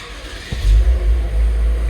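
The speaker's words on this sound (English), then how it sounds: "So press this, turn on the car." A Lexus IS350 engine starting, with a quick crank followed by a loud, steady low idle rumble close by.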